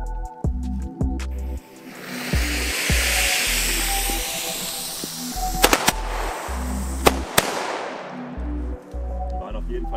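Firecrackers going off in quick succession, double-bang bomb tubes by Explode fired together, sharp loud bangs over a dense crackling roar that fades away near the end, with sparse talk nearby.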